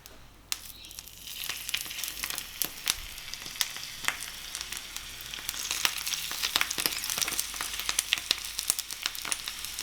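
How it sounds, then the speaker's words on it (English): Rolled food sears seam side down in a hot pan, giving a steady sizzle of frying with scattered crackling pops and no talk. "put the seam side down first and kind of sear it to kind of seal it in"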